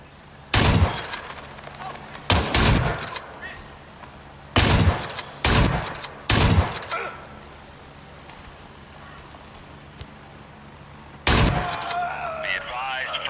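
Repeated bursts of gunfire in the military shooter game Gray Zone Warfare, several sharp broadband volleys spaced seconds apart with a final burst near the end, set against low ambient noise.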